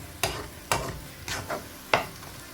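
Spiced masala sautés in oil in a pan for a North Indian mixed vegetable curry, heard as four or five distinct scraping strokes of a spoon over a low sizzle.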